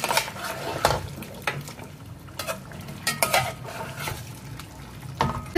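Paya (trotters) coated in masala fry in oil in a pot, with a low steady sizzle under repeated scraping, clanking spoon-on-pot strikes and stirring knocks.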